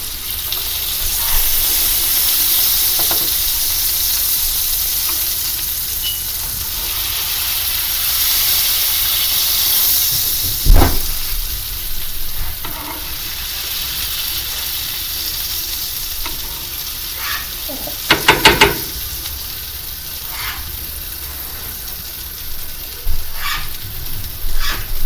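Butter and bread sizzle in a pan while making grilled cheese, a steady frying hiss throughout with occasional louder crackles and scraping clinks of a utensil.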